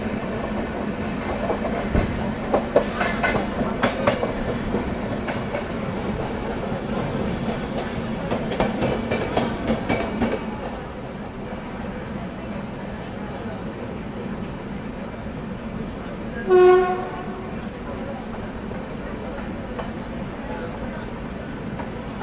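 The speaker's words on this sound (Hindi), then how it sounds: "अब LTT विशाखापट्टनम हमें ओवरटेक कर रही है" Two passenger trains run side by side, with the LTT Visakhapatnam express overtaking: a steady loud rumble and rattle of rail cars with clattering wheels, a burst of tonal horn-like sound near the end, and voices audible over it.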